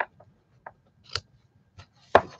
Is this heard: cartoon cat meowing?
no